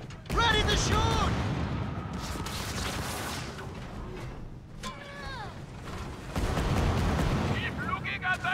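Ship cannons fire in a Skull & Bones naval battle, with booming blasts and creaking mechanisms. Voices talk over the action and the louder bursts come in clusters near the start, middle and end.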